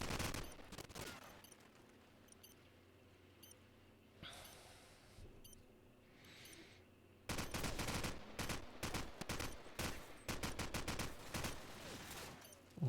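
Video game gunfire from a Call of Duty 4 competitive LAN match: quiet at first with scattered shots, then dense rapid bursts of automatic fire and repeated sharp cracks through the second half.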